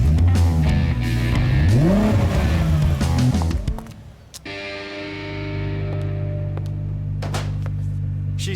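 A drift car at the Achilles Radial Asian Drifting Grand Prix in Jakarta revs hard with rising and falling engine pitch, then settles into a loud sustained drone after a brief dip, with tire squeal mixed in.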